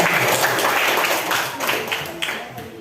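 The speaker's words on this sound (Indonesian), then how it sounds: "tepuk tangan untuk kelompok 3" A classroom group gives a short round of applause for a presenting team, dense steady clapping close by that thins out near the end, with talk over it.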